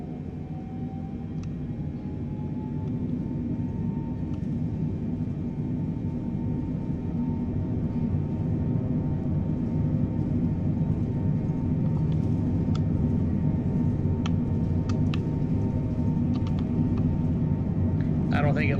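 Boeing 747-8 airliner climbing in Microsoft Flight Simulator 2020, a loud, continuous low roar of jet engines that builds slightly over time, with a voice speaking over it.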